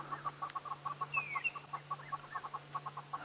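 Hornbills call around a safari vehicle at sunset in the Djuma reserve, giving a steady series of short, rhythmic clucking notes, moderately faint and somewhat distant over a low constant hum.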